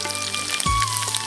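Cumin and mustard seeds dropped into hot oil in a pan while making tomato roti pachadi, giving a steady close crackling sizzle with a brief low thump partway through.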